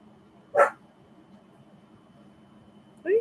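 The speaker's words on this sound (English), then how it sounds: "now my dog's barking." A dog barks twice, single sharp barks about two and a half seconds apart, fairly close, over a quiet room.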